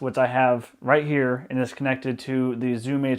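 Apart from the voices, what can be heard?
No distinct noise like a dog, phone or traffic.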